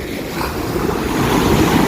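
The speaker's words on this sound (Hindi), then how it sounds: "कितना अशांत है, कितना शोर है, कितनी लहरें बनती है, मिट जाती हैं।" Sea waves roll onto Marina Beach in Chennai, a steady, broad surf roar mixed with wind buffeting the microphone, swelling slightly louder toward the end.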